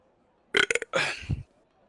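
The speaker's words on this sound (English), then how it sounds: "I actually do burp, by the way." A loud, close burp bursts out in a couple of gurgling pulses, then trails off into a short lower rumble before silence.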